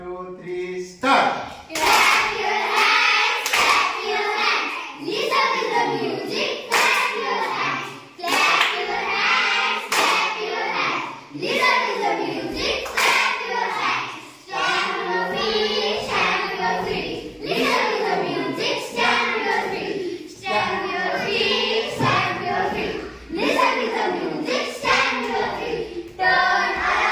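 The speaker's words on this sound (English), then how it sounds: "Clap your hands." Children clap their hands in rhythm during a sung action poem, with sharp, regular claps punctuating the children's singing throughout.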